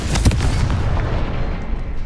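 A Confringo spell blasts off in Hogwarts Legacy, a dense rumbling explosion that punches in near the start and then rolls on as a heavy, sustained low roar with no voices.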